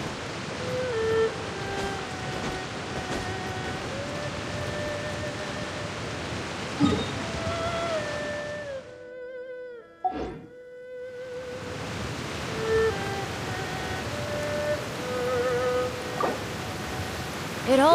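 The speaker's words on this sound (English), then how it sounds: "It always rains when I go on an adventure." Rain in the video game Genshin Impact, a continuous hiss of falling rain that cuts out briefly in the middle and then returns, with game chimes and tones over it.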